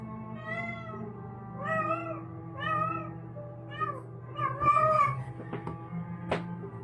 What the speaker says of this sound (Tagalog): Yan yung pusa namin